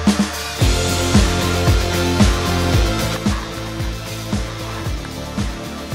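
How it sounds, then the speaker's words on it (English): A drill bores a bolt hole through an old bench vice, running in short, repeated bursts with sharp stops and restarts, close and fairly loud. "we've drilled our first hole in that mark that was already there"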